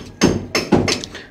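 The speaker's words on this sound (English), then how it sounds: "So now they're back to hand chipping everything with a nail." Concrete is chipped by hand with a nail on a guest house construction site, giving four sharp, close knocks at an uneven pace with short gaps between them.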